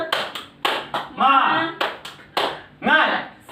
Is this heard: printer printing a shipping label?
no